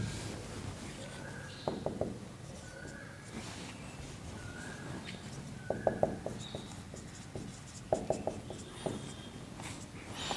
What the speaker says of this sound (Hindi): नीचे लिखता हूँ यहाँ पे